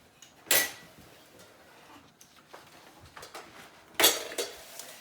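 Cooking pot shifted onto another stove burner in a home kitchen, two sharp metallic clanks a few seconds apart with faint scraping and small knocks between them, close and fairly quiet.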